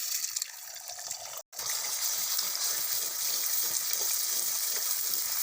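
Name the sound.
egg frying in hot oil in a wok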